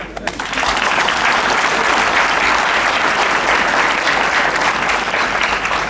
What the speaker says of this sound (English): when you clap, you really do clap